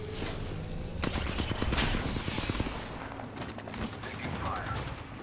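Gunfire in Apex Legends Season 6: dense rapid bursts of automatic shots close by, bunched in the first seconds and then thinning into scattered shots and mechanical game sounds.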